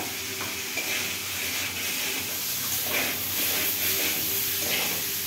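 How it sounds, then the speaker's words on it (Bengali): Spices fry for a vegetarian potato and eggplant curry, giving a dense, continuous sizzling hiss that stays close and loud throughout, with soft stirring movements underneath. "মশলাগুলো ভালো করে ভাজা ভাজা হয়ে গেছে।"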